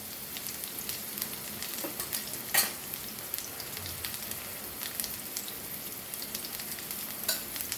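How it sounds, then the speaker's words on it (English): Stuffed snake gourd (padwal) frying in oil in a pan, a steady close sizzle with scattered crackles and pops and an occasional stir or roll of the pieces, no voices. "have to roll it all the sides so that they are fried nicely. So you can see it's already getting fried."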